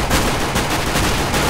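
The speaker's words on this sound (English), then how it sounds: "Stupid shotgun." Loud, close gunfire in a CS:GO Arms Race match, with rapid overlapping shots including a shotgun, packed into a dense burst that barely pauses.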